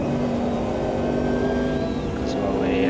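A C Class race car in Automobilista 2 holds its engine near the red line, a loud, steady high-revving drone with a slight rising pitch at the end. Someone talks over the engine.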